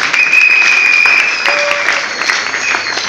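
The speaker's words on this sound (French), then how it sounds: "Vos acclamations." A church congregation applauds and cheers, a loud, continuous roar of clapping with raised voices and a few whistles mixed through it.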